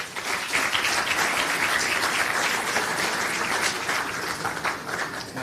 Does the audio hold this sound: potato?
no